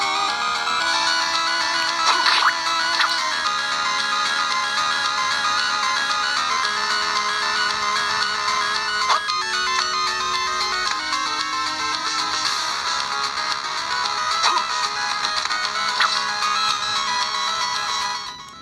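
Chiptune-style video game music plays loudly through the built-in speakers of an Analogue Pocket handheld, bright and tonal with steady beeping melodies and no talking.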